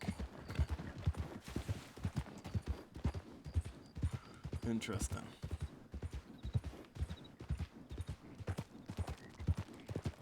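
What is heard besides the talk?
horse hooves clip-clopping in a video game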